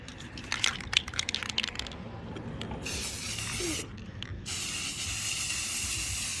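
Rust-Oleum Metallic gold spray paint hisses from an aerosol can onto a sculpture made from Dollar Tree items, in steady bursts with brief pauses between them, close to the listener.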